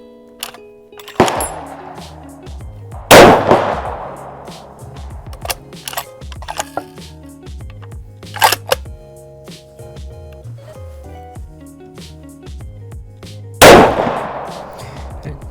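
Loud, booming rifle shots from a Ruger Precision Rifle in 300 PRC, three big reports spaced seconds apart with long decaying echoes, separated by quieter clanks and clicks of bolt handling.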